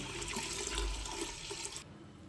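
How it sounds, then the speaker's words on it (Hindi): Three cups of water poured into a pressure cooker for dal, a steady close rushing splash that stops abruptly near the end. "3 कप इसमें पानी के डाल देंगे"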